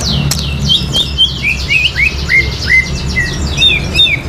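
A songbird chirps repeatedly in quick, bright descending notes, close and clear over a steady low background hum.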